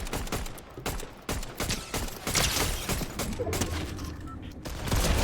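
Gunfire in the video game Fortnite comes as rapid bursts of loud shots in repeated volleys, continuing throughout with busy game noise behind.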